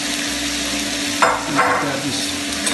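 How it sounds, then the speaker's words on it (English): Thirty-two shrimp drop into a pan of hot butter, setting off a steady sizzle with a few sharper bursts and stirring scrapes, close and continuous. "here goes those 32 shrimp right into that pan"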